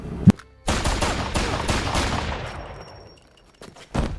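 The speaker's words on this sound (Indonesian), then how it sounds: "Trini datang dan berhasil melumpuhkan Griffin dengan timah panasnya." Gunfire in a fungus-infested action film: a single sharp shot followed by a loud sustained burst of rapid fire that fades out, then more shots at the end, with no speech.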